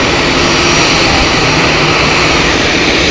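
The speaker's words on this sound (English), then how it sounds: "An Edelweiss A320 just taxiing up." An Edelweiss Airbus A320 taxiing at Zurich Airport gives a loud, steady jet engine roar with a broad rushing hiss and low rumble, continuous and close throughout with no voices.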